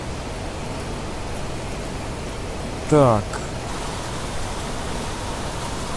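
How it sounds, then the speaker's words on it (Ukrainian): Steady rain falling in The Planet Crafter, a constant hiss throughout, with a brief rising tonal chirp and a short word spoken partway through. "Дощик пішов."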